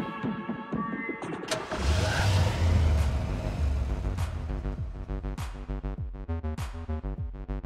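A DeLorean car in the video game Hotline Miami starts up and revs, its engine rumbling loud and close over a pulsing synth music track with sharp percussive hits.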